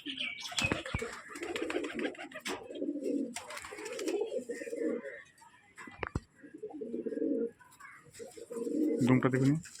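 A female dhari pigeon and her mate coo in repeated low bursts, with sharp wing claps and flutters breaking in between, all close by; no voices are heard.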